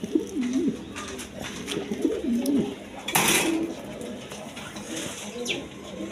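Coloured golla giribaz pigeons coo repeatedly in soft, rhythmic low phrases close by, with a brief louder rustle or flutter partway through and faint room noise underneath.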